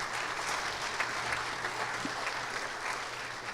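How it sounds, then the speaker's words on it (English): An audience at the Springfield Art Museum claps steadily in a continuous, moderately loud round of applause lasting the whole few seconds. "A big round of applause for these guys for opening up their facility to us."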